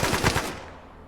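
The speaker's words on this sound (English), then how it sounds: "You can hear the TL-44 Han Solo's blaster." A TL-44 Han Solo blaster laser pistol fired in the video game Arma 3 gives a quick burst of about four sharp, loud shots in a row, followed by a short fading echo.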